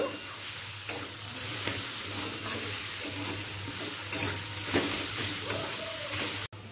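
Spice masala for tarka, seasoned with black salt, sizzles in a pan while a spoon stirs and scrapes it, with a steady frying hiss and occasional sharper scrapes and no talking.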